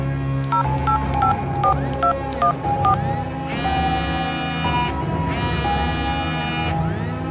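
In a video game, a phone is dialed: a quick run of short, clear keypad tones beeps one after another. Two longer steady ringing tones follow, over a continuous backdrop of game music and ambience.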